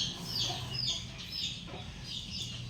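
Hen clucking in a backyard, a mother hen guarding newly hatched chicks, with soft repeated clucks and chirpy fowl calls at close range, steady throughout with no talking.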